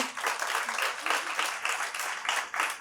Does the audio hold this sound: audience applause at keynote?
yes